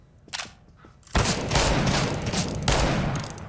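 Gunfire in CS:GO, with a few faint distant shots followed by two loud, close bursts of rapid automatic fire that ring out and decay.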